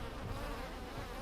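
A swarm of bees in the video game Heroes of Hammerwatch buzzes in a dense, continuous drone, close and steady throughout.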